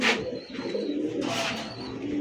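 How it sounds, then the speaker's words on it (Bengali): A pair of black Lakha pigeons cooing nearby, two soft throaty coos in quick succession, fairly quiet and close with no talking. "দর্শক বন্ধুরা আমার এই মুহূর্তে দেখতে পাচ্ছেন ব্ল্যাক এক জোড়া লাক্ষা কবুতর"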